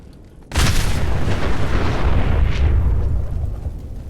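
A pocket nuke grenade detonates in Fallout 4 with a sudden loud blast, followed by a sustained, deep, roaring rumble that slowly fades. There is no speech.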